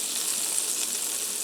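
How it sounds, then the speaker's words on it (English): Butter and olive oil sizzling as they melt in a large skillet over medium-high heat, a constant close, crackling hiss with no talk. "in a large skillet I have roughly 2 tablespoons of butter and 2 tablespoons of olive oil I'm melting"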